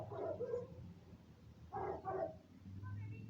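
An American Bully gaff dog gives a couple of short, muffled barks at moderate distance, separated by a pause, over low background noise.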